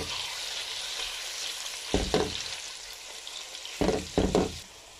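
Chicken keema sizzling steadily in a hot pan, a continuous frying hiss punctuated by several louder bursts of stirring and scraping, close and with no talk.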